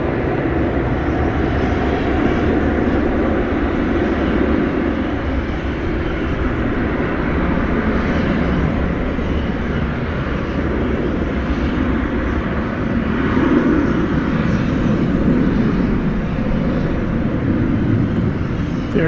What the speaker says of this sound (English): We've got American Flight 2402 to Seattle, an Airbus A321 is now entering our view.